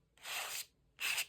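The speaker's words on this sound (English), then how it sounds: "A little gesso scraping here." Gesso scraped across a junk journal page in two separate broad, hissy strokes, close and fairly loud, the first longer than the second, with quiet pauses between.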